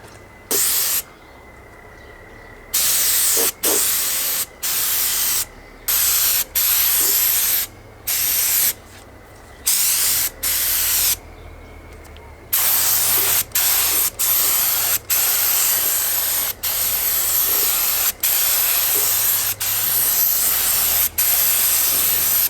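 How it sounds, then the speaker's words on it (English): Repeated bursts of a paint spray gun hissing loudly as it sprays cleaner, each lasting about a second or two, separated by short pauses, with a steady background hum between. "So I'm just going to use what's in here to help clean out the rest of the gun and get my spray pattern."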